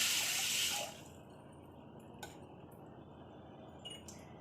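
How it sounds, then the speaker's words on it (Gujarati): A glass of water splashes into a bowl of washed mung beans in a brief, rushing pour that stops after about a second, followed by quiet room noise and faint clinks. "હવે આપણે એક ગ્લાસ પાણી ઉમેરી લઈશું"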